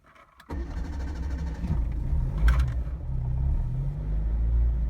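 A 1990 Yugo 45's engine cranks briefly and fires up on choke, then settles into a close, loud, steady rough idle with a slight rise midway.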